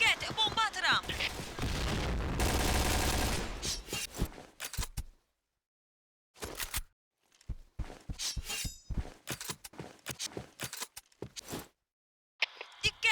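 In the Point Blank video game, a thrown bomb and bursts of gunfire sound out: a sustained noisy blast early on, then sharp clustered shots separated by silent gaps.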